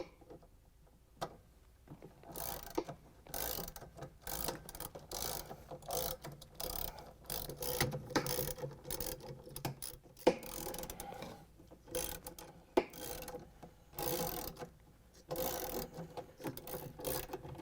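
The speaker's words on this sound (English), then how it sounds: "we can use the ratchet and the 10mm socket to take out the bolts that hold the stator on" A ratchet turning a 10mm socket backs out the stator bolts on a Samsung washer clutch assembly, giving repeated bursts of close, crisp clicking with short pauses between strokes.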